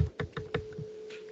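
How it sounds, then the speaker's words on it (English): A few distinct taps on a computer keyboard, close and fairly crisp, spaced unevenly over a faint steady hum. "You hear me typing?"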